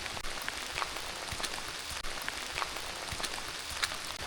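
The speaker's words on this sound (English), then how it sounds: "I love coming out in nature when it's raining." Steady rain hisses on leaves and ground along a riverside walk on a stormy evening, with scattered louder drops tapping nearby and no voices.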